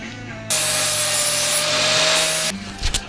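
Grinder smoothing welded-over gouges on a metal 1/14-scale lowboy trailer model, a close, loud abrasive rasp lasting about two seconds over a steady motor hum, then tapering into light scraping and handling noise.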